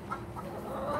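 A laying hen clucks in a short run of calls, close and fairly loud, with no talk over it.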